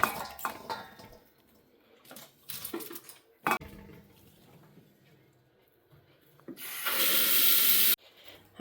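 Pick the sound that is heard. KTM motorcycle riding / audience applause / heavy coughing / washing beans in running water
washing beans in running water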